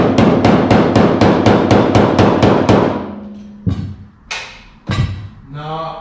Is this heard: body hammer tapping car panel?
yes